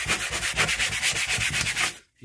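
A scrubbing brush is worked rapidly back and forth across a van dashboard, making a steady, rhythmic, bristly scrubbing close up. It runs continuously for about two seconds, then stops abruptly into silence.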